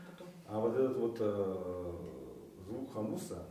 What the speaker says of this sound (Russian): звук хамуса с придыханием